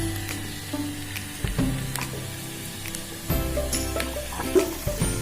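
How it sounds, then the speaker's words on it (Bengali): Garlic frying in butter until golden brown, with a steady close sizzle carrying on throughout and a few brief stirring clinks and scrapes breaking in now and then; no voices. "এবার এর মধ্যে রসুন দিয়ে দিচ্ছি। রসুনটা একটু গোল্ডেন ব্রাউন করে ভেজে নেব।"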